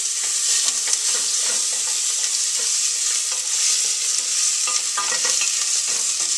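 Garlic frying with Szechuan pepper in hot oil in a pan: a continuous close, loud sizzle with scattered crackles and pops throughout, no talking.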